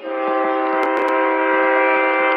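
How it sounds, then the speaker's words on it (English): A train horn blares loud and sustained for a couple of seconds, a rich chord of steady tones near a baseball game, with a few sharp crowd or bat clicks over it and no talking. "Train blaring."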